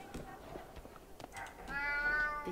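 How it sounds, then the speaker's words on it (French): A cat meows several times in the video game Alice: Madness Returns, a few short mews followed by a longer, louder drawn-out meow near the end, heard mostly alone. "Il y avait un chat."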